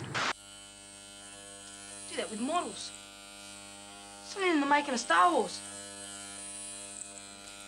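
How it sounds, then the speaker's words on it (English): An electric shaver buzzes steadily throughout with a dense harmonic hum, close and constant, while a voice speaks over it in two short bursts. "How's the shaver?"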